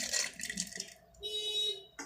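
Water is poured into a mixer grinder jar in a kitchen: a short splashing pour, then a brief steady filling stream with a rising tone, close and clear.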